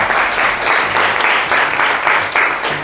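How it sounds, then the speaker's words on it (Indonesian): Students applaud in a high school classroom, a full, sustained patter of clapping with slight swells, heard alone with no talk over it. "Nah, tepuk tangan dulu."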